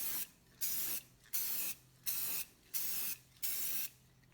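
Spray gun laying the first coat of finish on a guitar kit neck in long overlapping runs, six evenly spaced hissing bursts with short gaps between, close and steady; no talking.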